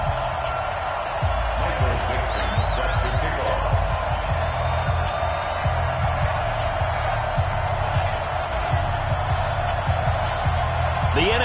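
Stadium crowd noise from EA Sports Madden NFL, Cleveland Browns versus Carolina Panthers in Week 11, a steady broad roar under continuous commentary throughout.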